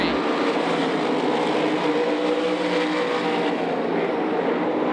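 USAC midget race cars roaring into turn 3 at Knoxville Raceway, a dense, loud, continuous engine howl from several cars at once.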